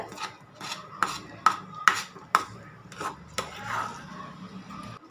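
A spoon scraping and stirring moong dal ukkarai in a pan, with a run of distinct rasping strokes about every half second, close and moderately loud, then a softer smear at the end.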